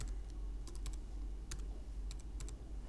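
Someone types a software authorization code on a Mac computer keyboard, with short, quick clusters of key clicks and pauses between them over a low steady hum.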